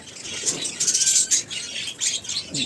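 Birds chirping and tweeting in quick, overlapping bursts, fairly close and moderately loud, with no talking.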